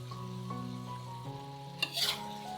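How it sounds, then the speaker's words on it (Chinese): Pork stir-fried with scallions and five-spice tofu in a wok: a faint, steady sizzle under a low hum, then a short, sharp scrape and toss near the end. "翻炒均匀就可以出锅啦。"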